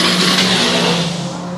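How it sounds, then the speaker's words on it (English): Loud hissing tyre squeal from a Subaru spinning its tyres at a hillclimb, with a revving engine underneath, close and continuous for a moment before easing slightly. "the sound you probably heard over the mic there was son Thomas lighting up the tyres in the Subaru"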